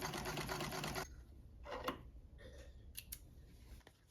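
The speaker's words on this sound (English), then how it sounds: "I started by seaming up the collar and the cuffs on the machine." A domestic sewing machine seaming the collar and cuffs of a reproduction 1925 man's shirt, running in a loud, fast, steady burr for about a second, then stopping, followed by softer handling clicks and a couple of sharp snips nearby.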